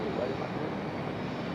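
A Delta jet departing Raleigh-Durham International at night gives a steady, broadband engine roar at moderate distance, unbroken through the short moment with no clear peaks.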